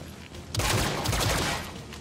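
Burst of gunfire in the tactical video game XCOM: Chimera Squad, a dense volley of shots starting abruptly and rolling on as a loud fusillade.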